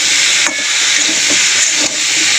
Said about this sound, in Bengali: মাছটা একটু ভালো করে নুন হলুদের সঙ্গে ভাজা ভাজা করে নেবেন। একটু জল দিয়ে দেবো তাতে।